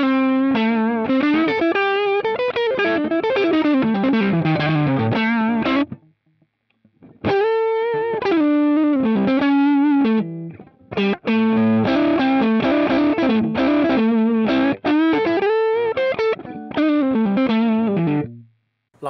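Electric guitar played through a Mooer Two Stones distortion pedal emulating a Two Rock amp with cab simulation on: driven, sustained chords and single-note lines, loud and close, with two short pauses between phrases.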